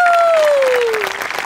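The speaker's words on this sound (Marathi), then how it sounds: "त्यांच्यासाठी टाळ्या वाजूया" Applause from the audience of a Marathi comedy show for a songwriter-composer duo, rising under a fading sustained musical tone and turning into scattered clapping.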